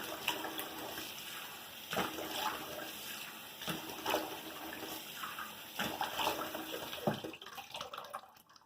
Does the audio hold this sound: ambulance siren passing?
no